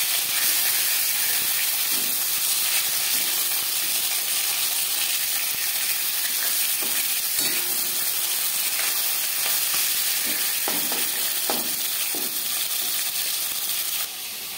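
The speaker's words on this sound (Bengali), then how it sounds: "একটা সাইড ভাজা হয়ে গেলে অপর সাইডটা উল্টে দেবো।" Pieces of Bhola fish fry in a pan with a loud, continuous sizzle and hiss of hot oil, close up, with occasional soft spatters and no voices.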